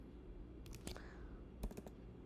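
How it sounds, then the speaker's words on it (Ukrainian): Computer keyboard keys are pressed in two quick clusters of sharp clicks, a double tap followed by a brief rattle of strokes, close and fairly quiet over a low room hum. "Я натискаю на клавіатурі два рази ПП."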